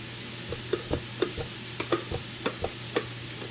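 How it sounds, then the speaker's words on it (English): Chicken frying in a pan for fried rice, a soft sizzle under a string of sharp taps and scrapes from a utensil stirring and mixing, close and fairly quiet. "The chicken's in, we'll start letting it cook before I start mixing it"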